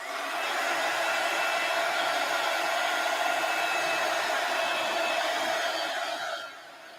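A hair dryer blows steadily on unfinished craft work, a loud continuous whoosh that holds evenly for several seconds before dropping off at the end.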